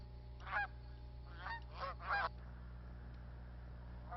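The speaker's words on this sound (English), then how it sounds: "the resident Canada geese that no longer migrate to their northern breeding grounds to nest" Resident Canada geese at Blackwater National Wildlife Refuge in Maryland give a handful of honks, one single call followed by a quick cluster of two or three. The calls are fairly faint and distant over a low, steady background hum.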